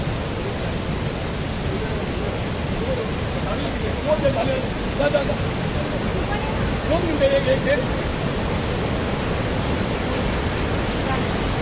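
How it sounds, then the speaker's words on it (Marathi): A waterfall near Dhutpapeshwar temple in Rajapur, Konkan, makes a dense, unbroken roar that stays steady throughout, with faint voices now and then beneath the rush. "तुमका आता मी इकडचं धबधबा दाखवतोय इथं."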